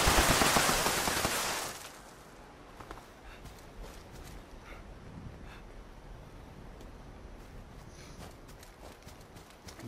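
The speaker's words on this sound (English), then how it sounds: "Is that him shooting?" Gunfire in a video game: a loud, dense burst of shots for about two seconds, then scattered faint cracks over steady background noise, with no talking.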